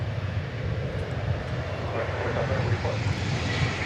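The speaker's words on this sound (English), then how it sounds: "Should be getting very close to the Japan Airlines arrival." A Japan Airlines airliner arriving at DFW Airport at dawn, its engines a steady, continuous broadband roar with a low rumble, moderately distant and unbroken throughout.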